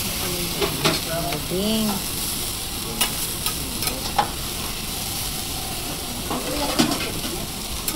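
Okonomiyaki sizzles steadily on a hot griddle at a Hiroshima restaurant while metal spatulas scrape and stir in short bursts; someone speaks briefly over the frying.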